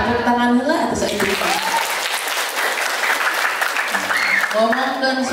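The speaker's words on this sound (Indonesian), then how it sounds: "Tepuk tangan heula atuh saeutik." An audience claps and cheers continuously at a Ramadan stage event, the applause filling the whole stretch, with someone speaking over it at the start and end.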